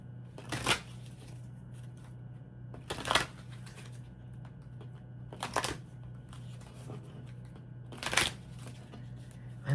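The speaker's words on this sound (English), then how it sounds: "I'm being drawn to shuffle these cards." A deck of tarot cards is shuffled in four separate bursts spaced a couple of seconds apart, each a quick close riffle over a quiet room with a low steady hum.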